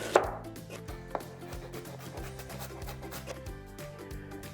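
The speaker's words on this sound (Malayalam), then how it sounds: "ജിഞ്ചറും നമുക്ക് നന്നായിട്ടൊന്ന് ഫൈനായിട്ട് ചോപ്പ് ചെയ്തെടുക്കാം" A knife finely chopping ginger on a board for a prawn and avocado salad, delivering a steady run of rapid, close, crisp taps with one harder hit near the start.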